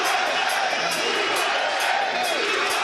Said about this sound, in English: Look at this crowd. They're chanting.